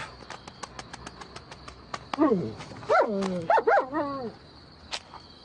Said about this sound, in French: il y a un chien qui me poursuit